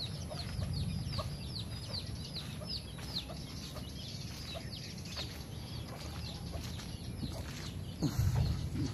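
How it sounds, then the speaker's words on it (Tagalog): Chickens cluck faintly on a small farm in light rain, scattered short calls over a steady wet background hiss, with no voices present. "Manok."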